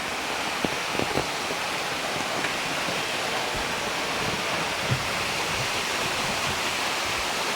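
A small waterfall pours in a steady, dense rush of water that stays broad and even throughout, with only a few faint knocks underneath.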